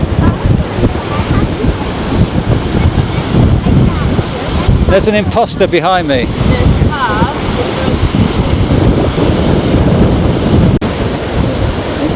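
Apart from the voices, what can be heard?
wind and waves on a windy beach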